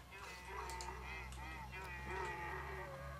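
Honking, braying creature calls from the Spore video game, several overlapping nasal cries at moderate volume over a steady low game hum.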